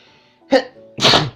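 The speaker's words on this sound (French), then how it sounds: "Excusez-moi, j'ai éternué." A single close, loud sneeze in two parts, a sharp intake burst followed by a breathy explosive release, comes right after a brief stretch of faint talk.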